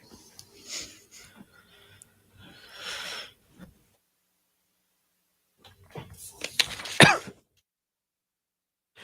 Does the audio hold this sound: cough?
yes